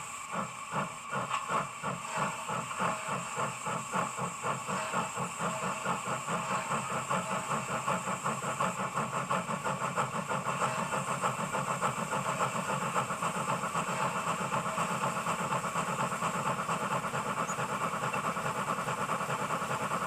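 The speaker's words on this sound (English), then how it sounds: "The locomotive's left running at speed step 20." ESU sound-equipped model steam locomotive running steadily at speed step 20, giving a loud, continuous rhythmic chuffing with constant steam hiss that holds an even pace throughout, with no voices.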